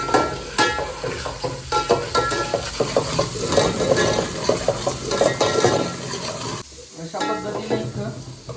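Onion and garlic fry in ghee in a pan for hotel-style dal khichdi, a steady loud sizzle broken by frequent scraping stirs and light clinks of a utensil against metal, the frying dropping off sharply near the end.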